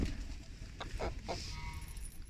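A young rooster clucks a few short, close calls over steady background noise on a poultry farm, with no talk.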